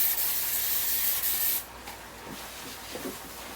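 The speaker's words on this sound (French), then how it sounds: "Je vais nettoyer les cabinets." Kitchen cabinets are scrubbed with a steady, close, hissing rub for over a second, then the sound drops to quieter, scattered wiping strokes and small knocks.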